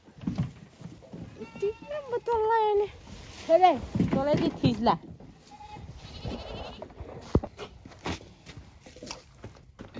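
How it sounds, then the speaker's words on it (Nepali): A goat bleating repeatedly at a farm, several wavering cries in a row, close and loud, with someone talking nearby and some rustling in between. "बाख्रा चाहिँ कराइरहेछ स्याउला खानु"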